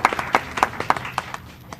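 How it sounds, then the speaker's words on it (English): Scattered handclaps from a small group at a school board meeting, greeting a newly elected chairman; a dozen or so distinct, evenly spaced claps, fairly close, fading toward the end. "think we can applaud for our chairman"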